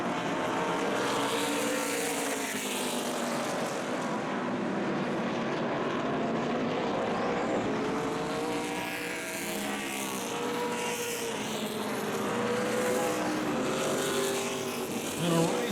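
Race cars roar around Tri-County Speedway during a championship night race, a continuous engine drone with shifting pitch as cars pass, loud and steady, with a commentator talking over it.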